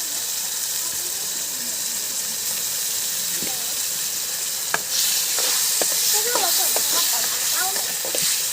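Spiny gourd (kantola) sabji sizzling steadily in hot oil in a village-style kitchen, with a constant frying hiss that swells louder partway through and scattered crackles and stirring clinks on top.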